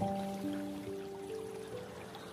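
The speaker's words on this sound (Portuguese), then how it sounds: "barulho da água" Gentle running water flows steadily beneath soft, sustained musical tones in a calm, relaxing setting, faint and continuous with no voices.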